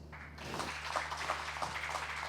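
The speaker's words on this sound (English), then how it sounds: "And round of applause." A round of applause at a law and diplomacy graduation ceremony, a short steady stretch of clapping from a modest crowd, fairly faint over a low electrical hum.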